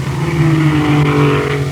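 A race car at the 1939 Indianapolis 500 roars past with a loud, steady engine drone and strong low harmonics, holding close and continuous throughout on an old live radio broadcast.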